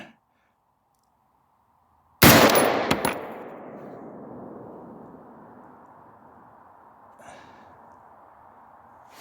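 A single sharp, loud rifle shot fired at a 200-yard target through a Holosun 503G optic, followed by a long fading echo and a faint later rattle, with near-silence before the shot.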